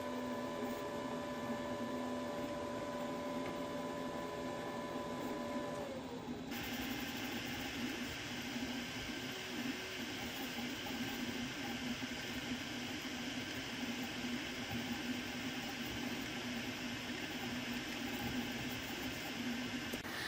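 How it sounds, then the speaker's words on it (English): An AnyCubic Kobra 2 Pro bed-slinger 3D printer lays down its first layer at about 80 mm/s, giving a steady, continuous mechanical whir and hum with fan noise, close and unchanging throughout, with a brief shift in tone early on. "The first layer is printing at around 80 millimeters per second, which is notably faster than other fast printing machines."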